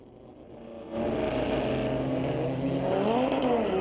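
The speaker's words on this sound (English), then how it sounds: "the 2019 Audi is way quicker than the 91 Civic" Drag race between a 2019 Audi and a 1991 Honda Civic at a street-legal drags night at a raceway park, engines roaring loudly and steadily with rising revs after a quieter opening, no talk.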